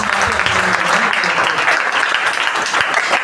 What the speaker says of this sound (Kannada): ಜೋರ್ ಸರ್ ಅವರಿಗೆ ಒಂದು ಜೋರಾದ ಚಪ್ಪಾಳೆ